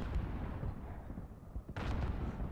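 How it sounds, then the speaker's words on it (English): A flash grenade goes off in the Modern Warfare video game: a sharp burst near the end cuts through a low rumbling, gunfire-filled game backdrop, with no voices. "Got a flash grenade."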